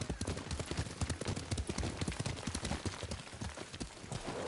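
Galloping horse hooves in Ghost of Tsushima thud in a rapid, rhythmic clip-clop, fairly faint and continuous, with no voice over them.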